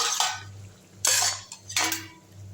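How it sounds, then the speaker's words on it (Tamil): A spoon scrapes and clatters against a metal pot while stirring soya chunks into a meal maker kurma with potatoes, three sharp bursts of metallic scraping close up, with a low hum between and no talk. "இந்த மீல் மேக்கர் எடுத்து இதில் போட்டுடலாம். கொஞ்சம் நல்லா வந்து கிண்டி விட்டுருவோம்"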